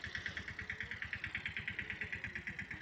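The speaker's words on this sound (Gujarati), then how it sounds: "આ ટ્રેક્ટરની ધબધબાટી બોલાવે છે" A tractor engine idles with a rapid, steady thumping rhythm, fairly faint and even, with no talking.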